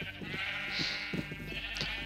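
Sheep bleating in the Minecraft video game, several short bleats in quick succession with distinct harmonic calls, close and clear with no talking.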